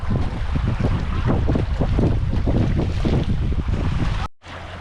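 Strong gusting wind buffets the microphone in heavy low rumbles, continuous and loud, cutting off abruptly near the end.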